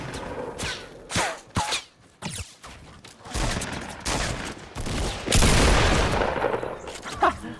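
Gunfire in the video game Fortnite during a squad fight, sharp close shots fired singly and in rapid bursts with loud sustained volleys, over scattered game effects.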